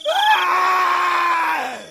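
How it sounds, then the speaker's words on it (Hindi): One loud, piercing scream in a Hindi witch horror story holds steady for nearly two seconds and then trails off, heard on its own. "इतने में बहुत जोर से चीखने की आवाज आती है।"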